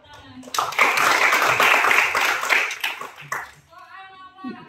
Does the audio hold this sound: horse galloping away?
no